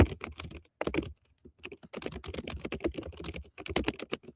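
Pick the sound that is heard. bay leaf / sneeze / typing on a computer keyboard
typing on a computer keyboard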